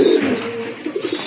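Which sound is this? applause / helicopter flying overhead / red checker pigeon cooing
red checker pigeon cooing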